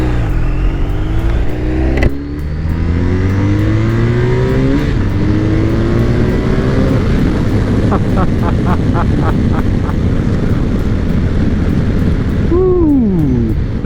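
A 2021 BMW R1250RT motorcycle accelerating hard in a pull test, its engine note rising through several gear changes, loud and close with steady wind rush, and a brief voice near the end.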